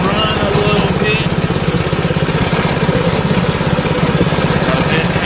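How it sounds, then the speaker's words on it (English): A Power Smart snowblower engine idles outdoors in the cold while it warms up, a loud, close, even mechanical chug that runs steadily throughout. "We want this engine to warm up a little bit."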